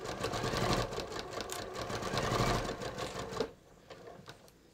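A sewing machine runs steadily along the seam of ready-to-wear pants at a lengthened rise, a continuous close mechanical whir that stops abruptly near the end, leaving quiet room noise.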